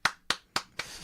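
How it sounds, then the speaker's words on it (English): Four sharp, close hand claps spaced evenly about a quarter second apart, each a crisp slap with a short decay, alone without talk. "was that a solitary clap?"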